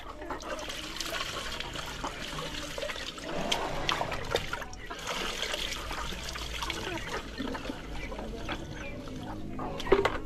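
Water mixed with Major D disinfectant is poured into a sprayer, giving a steady trickling, gurgling pour with splashy surges and a few sharper knocks.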